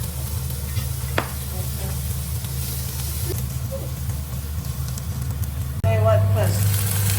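Garlic and onion sizzle steadily in a pan while being stirred, with occasional utensil clinks and a hiss that rises sharply near the end as more goes in, under casual talk.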